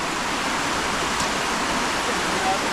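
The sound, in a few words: fast water current flowing through dam spillway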